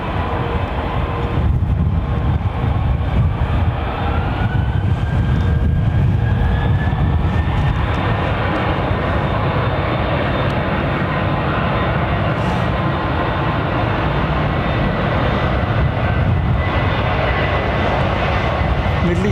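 An Emirates Airbus A380 sits on a remote stand at London Heathrow with its air conditioning packs running, giving a steady, loud, broadband roar that holds without a break for the whole stretch.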